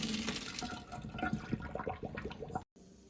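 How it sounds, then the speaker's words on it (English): Boiled macaroni water pours out of a cooking pan as the pasta is drained, a steady splashing rush of liquid running near and alone for about two and a half seconds before cutting off abruptly. "you want to drain it."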